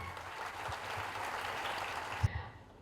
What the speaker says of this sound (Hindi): सम्मान में एक बार जोरदार ताली चाहती हूँ